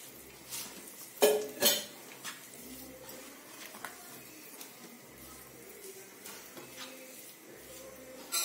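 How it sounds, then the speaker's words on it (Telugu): Metal clinks and a couple of louder clatters from a pan on a lit stove as oil goes in for tempering, with faint scraping in a quiet kitchen. "ఆయిల్ వేస్తున్నాను పోప్కి."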